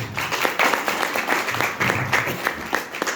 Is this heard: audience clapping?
yes